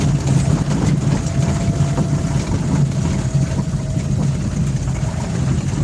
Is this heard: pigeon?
no